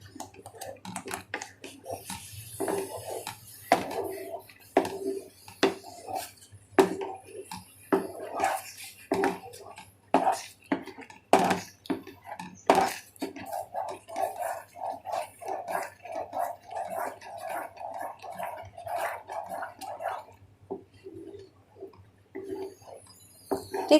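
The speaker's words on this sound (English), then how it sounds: "Stir it nicely again." Mango jam being stirred and scraped in a pan, with soft irregular scraping and wet clicking strokes that come in uneven bursts, fairly quiet and close.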